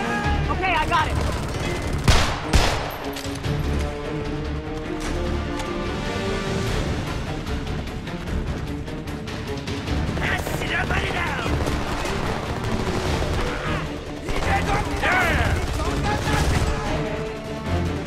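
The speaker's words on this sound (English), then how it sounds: "Machine gun, second floor window." Machine gun fire in the war shooter game Homefront: dense bursts of rapid gunshots and booms through much of the passage, strongest early on and again near the end, mixed with shouted voices and battle noise.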